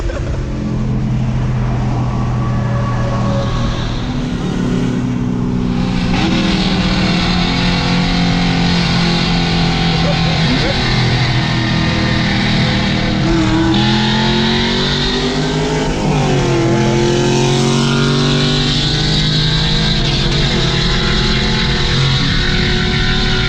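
A 3V Mustang GT street racing on the highway, heard from inside the car: loud, sustained engine roar that climbs through gears with brief dips at shifts, constant and close throughout.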